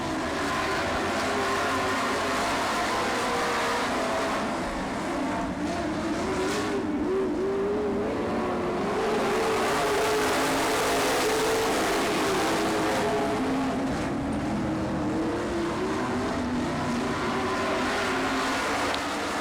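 Dirt track race cars, including the 19S, roaring around the track in a continuous loud engine drone that swells and fades slightly as cars pass, with no break throughout.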